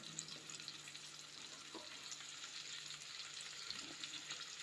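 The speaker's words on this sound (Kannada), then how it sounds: "ಇವಾಗ ಬೆಳ್ಳುಳ್ಳಿ ಹಾಕ್ತಾ ಇದ್ದೀನಿ" Garlic sizzles in a hot frying pan for a Kannada-style sprouted horse gram sambar, a steady, fairly faint hiss that runs throughout with a few soft stirring clicks and no talking.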